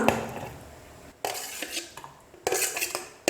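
Sautéed onion and tomato being moved onto a plate with the stove off, a few clinks and scrapes of a utensil against cookware in bursts separated by quiet gaps, close and fairly soft, no talk.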